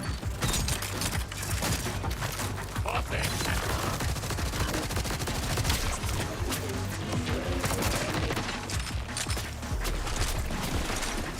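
Gunfire in the video game Borderlands 4, rapid bursts and continuous automatic shots with mechanical clatter and impacts, loud and dense throughout, with occasional speech mixed in.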